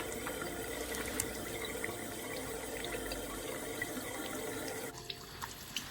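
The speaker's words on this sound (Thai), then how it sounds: "ก็ล้างหน้ากับน้ำอุ่นนะคะ" Warm tap water running into a sink for face washing, a soft steady splashing stream with a few drips that stops near the end, fairly quiet and without speech.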